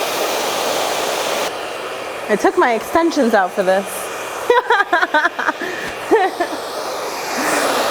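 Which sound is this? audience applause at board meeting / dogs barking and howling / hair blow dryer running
hair blow dryer running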